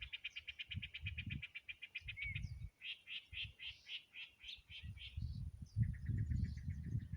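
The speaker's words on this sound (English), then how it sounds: "sounds of the birds" Birds sing outdoors in a peaceful natural setting with a light breeze: repeated bright chirps and trilled phrases, moderately distant, over a low rumbling of wind.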